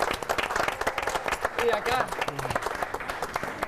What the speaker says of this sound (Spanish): ¡Aplauso para los colaboradores divinos!